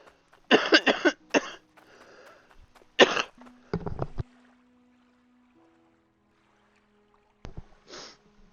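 Harsh coughing fits from a man who is quitting smoking, several loud bursts in clusters with pauses between, including a throaty spell and a final cough after a long quiet gap, with no talking.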